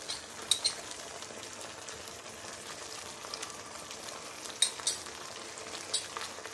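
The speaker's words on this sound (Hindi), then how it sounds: "अब हम इसमें डालेंगे अदरक लहसुन का पेस्ट" Ginger garlic paste fries in a pan for chicken patties with a steady, close hiss of sizzling oil, broken by a few sharp clicks of a spoon against the pan.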